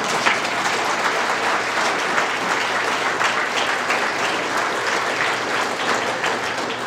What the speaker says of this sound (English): That's worthy of applause.